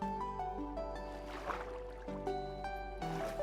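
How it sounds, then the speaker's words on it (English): Water rushes in a Minecraft waterfall, heard as a soft, steady wash beneath a sustained backdrop of game music tones, with small shifts in the flow and no voices. "In through the scary waterfall."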